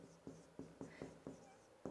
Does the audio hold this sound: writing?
yes